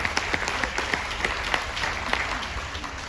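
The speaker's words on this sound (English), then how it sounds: "Please give them a big round of applause." An audience on a Royal Caribbean cruise ship applauds in a dense, steady burst of clapping, moderately near and continuous for a few seconds.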